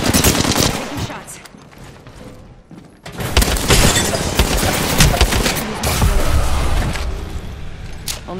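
Sustained automatic weapon fire in the shooter game Apex Legends, loud, dense rattling bursts with impacts and shattering, a brief lull near three seconds, then renewed heavy gunfire.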